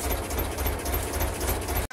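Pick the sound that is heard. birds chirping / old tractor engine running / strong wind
old tractor engine running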